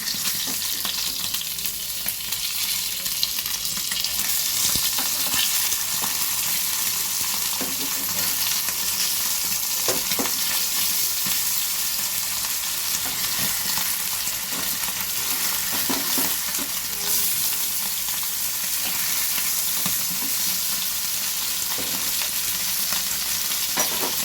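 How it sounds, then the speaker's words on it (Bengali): Gurjaoli fish pieces fry in very hot oil, giving a steady, loud sizzle and crackle that runs unbroken throughout, with occasional faint scrapes as the fish is turned. "ভালো করে ভাজাটা হোক।"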